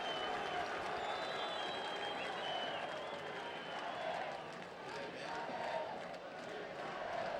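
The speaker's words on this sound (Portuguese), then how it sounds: "O torcedor aplaude o argentino." Football supporters in a stadium at a Grêmio versus Flamengo match applaud an Argentine player, a steady broad roar of clapping and crowd noise filling the whole stretch, with a commentator's voice faintly running over it.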